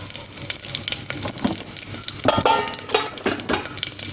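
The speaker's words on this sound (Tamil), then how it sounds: "நல்லா பொரியட்டும்" Mustard seeds, urad dal and cumin crackle and pop in hot oil, sharp irregular spluttering over a steady sizzle, close and fairly loud.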